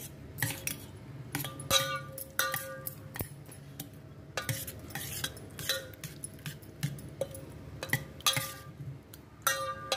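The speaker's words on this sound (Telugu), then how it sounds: "ఇప్పుడు కలిపేసుకోవాలన్నమాట మొత్తం." Cooled wood apple chutney being stirred into yogurt with a spoon, a series of light clinks and scrapes against a bowl in an irregular rhythm, close and fairly quiet.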